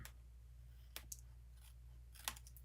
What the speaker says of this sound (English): we just grab our scissors and cut it